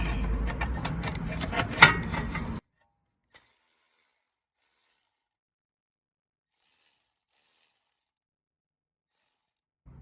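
Ratchet with an extension turning a 12mm bolt on a Mitsubishi Eclipse/Galant starter, a close, dense run of quick mechanical clicks for about two and a half seconds, then near silence.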